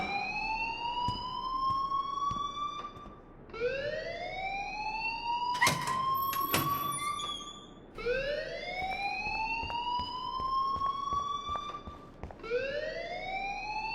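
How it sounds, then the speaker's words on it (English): A school fire alarm in the game Life is Strange sounds in repeated rising electronic whoops, each sweep climbing and then holding for about four seconds. The cycle repeats loudly, and a few sharp clicks break in near the middle. "please turn off that alarm since that's your job"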